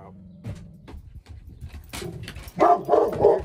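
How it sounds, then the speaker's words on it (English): Dogs at a home bark several times while a delivery arrives next door, short sharp bursts building toward a louder cluster near the end, close by and with no talk over them. "They bark a lot, but they don't bite."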